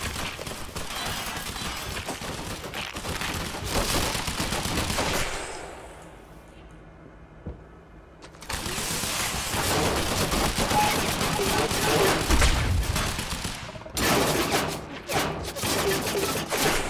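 Dense bursts of automatic gunfire rattle through a firefight in the video game Quantum Break, broken by a short lull of low rumble before the shooting resumes heavy and continuous.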